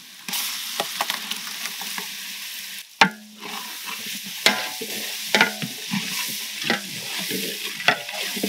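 Sliced onions frying and being stirred in a large pan for a village-style chicken dum biryani, a steady sizzle broken by scraping stirs and sharp clanks of a ladle against the metal, close and clear without talk.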